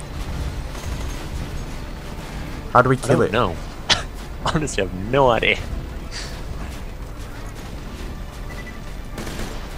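Rapid bursts of heavy auto cannon fire in Borderlands 2 crackle steadily through the scene while someone talks and laughs over the shooting.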